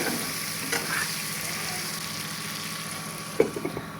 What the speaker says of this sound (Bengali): জিরা বাটা আর লবণ দিয়ে ভালো করে আম্মু নেড়ে চেড়ে নিচ্ছে তারপর এর ভিতরে দিয়ে দিচ্ছে টমেটো কাটা